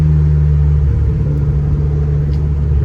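A loud modified car engine rumbles in a deep, steady drone at close range, holding an even idle-like tone with no revving and no talking.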